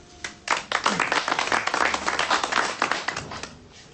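A small group in a room claps together for about three seconds, a dense patter of hands that starts abruptly and fades near the end, fairly close.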